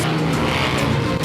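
A motorcycle fitted with a loud racing exhaust roars in a continuous, harsh engine drone, close and loud throughout, with no speech.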